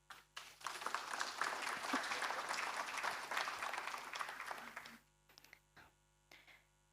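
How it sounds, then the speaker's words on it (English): An audience at a university debate on Pacific ocean health claps warmly for about five seconds, a full and even round of applause that stops sharply and leaves a few scattered claps and low room hum. "please another round of applause."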